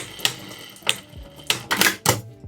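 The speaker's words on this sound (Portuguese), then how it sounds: "Elástico costurado." Sewing machine stitching elastic for a cosplay dress: a few sharp mechanical clacks in an uneven rhythm, loud and close, with brief whirring runs between them and no talking.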